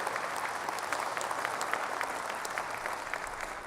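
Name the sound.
audience applause at Sony E3 2006 press conference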